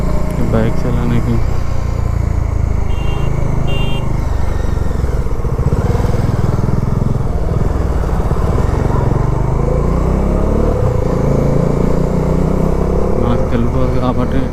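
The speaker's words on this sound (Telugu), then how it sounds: "బైక్స్ వెళ్ళడానికి" Motorbikes roll through a highway toll gate on a Hyderabad to Pondicherry ride, engine drone steady and loud with passing traffic, close wind rumble throughout.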